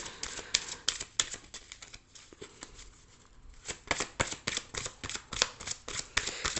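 Tarot cards are shuffled and drawn in a quick run of crisp, close riffling slaps and flicks, with a short quieter pause partway through.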